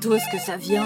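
A mobile phone ringtone chimes in a melodic, tonal pattern for under a second, mixed with a voice talking over it.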